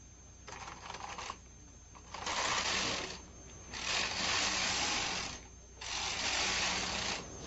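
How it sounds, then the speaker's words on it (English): Knitting machine carriage sliding back and forth across the needle bed as rows are knitted, producing repeated bursts of rattling, whirring mechanical noise alternating with quieter pauses, close and fairly steady, with no speech. "Rethread the carriage and knit regularly until you have the number of rows you need"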